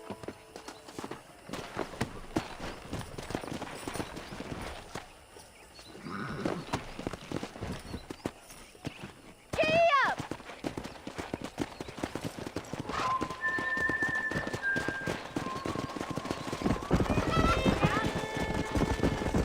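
Steady clip-clop of horse hooves moving at pace in Red Dead Redemption, with a whinny rising partway through, over a busy game soundscape and occasional talk.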